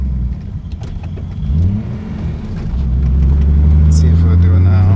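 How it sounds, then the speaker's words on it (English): A car engine revs oddly around 2,000 RPM, a low droning hum that rises in pitch and grows louder and steadier toward the end, with someone talking over it. "Like it literally just like did some weird revving thing."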